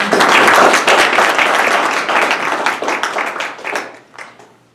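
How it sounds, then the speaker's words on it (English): Audience applause for a professor at an academic event on caste, a dense burst of many hands clapping loudly at first, then gradually thinning and fading toward the end. "A great applause for him actually."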